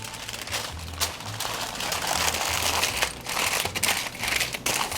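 Parchment paper crinkling and rustling as it is folded over seasoned fish, close and fairly loud in irregular bursts of crumpling.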